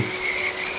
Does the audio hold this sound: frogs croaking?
yes